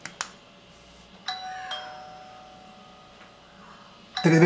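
A doorbell chime set off by a smart wall switch scene rings in a quiet room, with a soft click followed by ringing two-tone chime notes that decay slowly, then a louder burst at the end.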